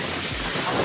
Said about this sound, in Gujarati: અત્યારે પવન ને વરસાદ પણ બહુ જ છે.